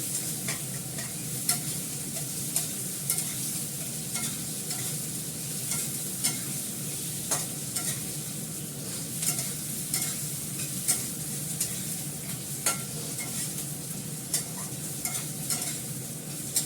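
Onions frying in a small amount of oil, a continuous close crackling sizzle with frequent spatula scrapes and stirring ticks throughout, steady and fairly loud with no talking.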